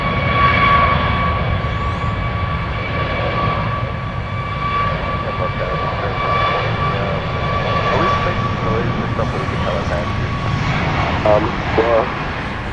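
Airplane at Dallas Love Field airport, a steady broad engine roar with sustained tonal whine running throughout, fairly loud and continuous, with radio voices talking over it.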